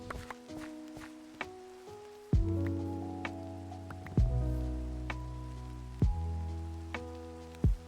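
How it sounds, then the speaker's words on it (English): Minecraft rain keeps up a faint steady hiss under game music, while footsteps and a few sharp thuds punctuate it at irregular intervals. "And we're just literally waiting for it to stop raining."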